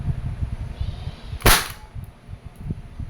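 A single sharp report from a Umarex Glock 19X airgun being test-fired, a crisp snapping crack that stands out loud and close against low background rumble.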